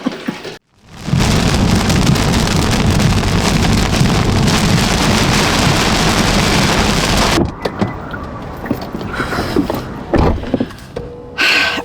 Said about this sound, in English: the rain makes for a cozy day